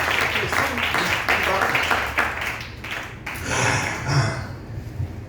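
A church congregation claps and applauds, rhythmic hand claps rising and falling for several seconds, mixed with talking and a few cheers in the room.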